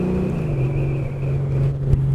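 A Honda Valkyrie Rune motorcycle engine runs with a steady, deep idle rumble and a sustained low hum, close and continuous, with a brief blip near the end.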